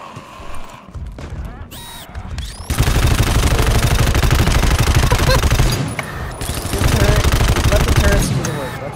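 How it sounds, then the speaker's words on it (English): Automated turrets in the co-op shooter GTFO fire in long, dense rapid bursts, loud and close, with sustained automatic gunfire dominating most of the clip after a brief quieter opening. "Let the turrets do the work."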